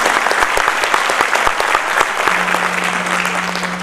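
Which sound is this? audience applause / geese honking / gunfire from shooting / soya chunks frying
audience applause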